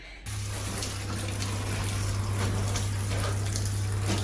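Shower water running steadily while sheets are washed in it aboard a boat, a constant loud hiss with a low hum beneath, starting abruptly and continuing without break.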